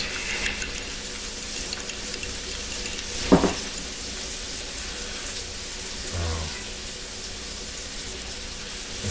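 A white sauce stirred in a pan for a keto BBQ chicken pizza, a low steady sizzle and faint scraping running throughout, with one brief sharper clatter near the middle.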